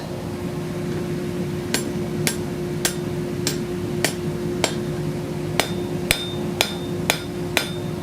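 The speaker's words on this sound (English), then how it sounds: "We're going to just turn this straight up on the anvil, and we're going to hit it." A blacksmith hammers hot steel on an anvil while forging a feather bowl, striking about twelve sharp, ringing blows at a steady rhythm roughly every half second over a constant low hum.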